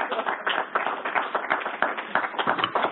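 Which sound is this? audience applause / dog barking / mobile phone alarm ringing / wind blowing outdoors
audience applause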